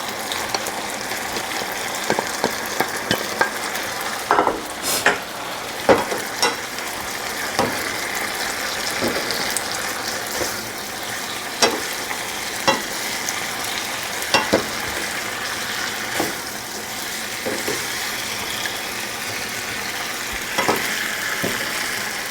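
Shrimp, bell pepper and mushroom stir-fried in a hot pan over high heat: a steady, dense sizzle runs throughout, broken by frequent sharp clacks and scrapes of stirring, with no talking.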